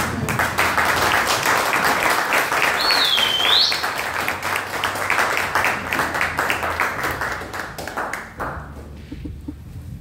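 A church congregation applauding during a service, a dense, steady wash of clapping held loud for about eight seconds before thinning out, with a brief whistle-like tone near the start.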